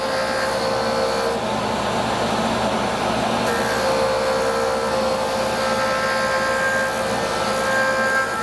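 A Foredom rotary tool rounding the edges of a hammer handpiece anvil point makes a steady, close whirring grind with a faint high whine, continuous for several seconds with no voices.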